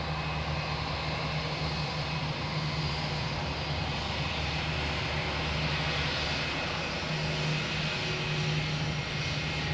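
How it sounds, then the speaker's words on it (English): A Jetstar A321 airliner at Adelaide Airport gives off a steady, loud jet engine roar with a broad rushing hiss and a low hum that sustains evenly throughout. "There we are, Jetstar A321."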